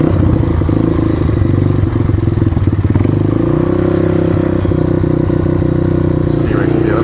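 A Honda XR200R motorcycle engine runs after a cold start, a loud, close, steady rattling idle with fast regular firing pulses throughout, and a voice talks over it.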